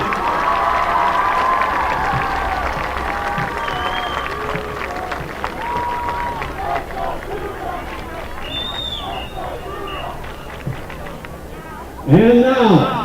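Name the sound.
crowd applause for seniors at football game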